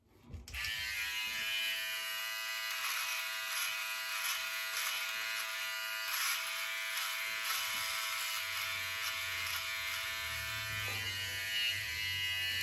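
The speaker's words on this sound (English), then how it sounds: "go without the guard, and trim right to the ear" A Philips OneBlade electric trimmer runs with a steady high-pitched buzz, used without its guard to trim hair right up to the ear. The motor whine is close and continuous for the whole stretch, with a lower rasp of cutting near the end and no talking.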